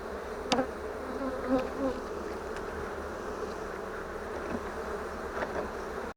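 Honey bees hum steadily around a honey-filled frame lifted from a grey wooden hive during acacia bloom, a continuous close drone with a few louder passes near the ear and no talking.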